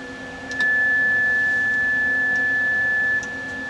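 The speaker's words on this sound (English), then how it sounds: "you can hear the tone in the background." A steady high electronic tone at 21 MHz hums continuously over faint hiss from a prototype BITX radio receiver, starting and stopping abruptly, with no voices.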